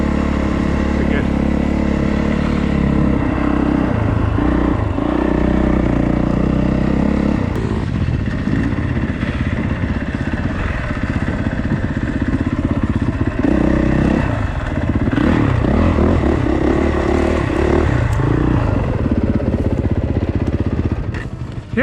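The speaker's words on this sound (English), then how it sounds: "Taking it easy, just doing a couple laps, getting a feel for the bike, kind of shaking it down." A dirt bike lapping a rough track, its engine loud and continuous with revving rises and falls and clattering over bumps, heard close up under wind noise while someone speaks.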